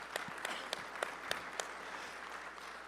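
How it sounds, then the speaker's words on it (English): An audience at a training session claps, a soft background patter punctuated by several distinct sharp claps at regular intervals, fading toward the end. "That's a good clap."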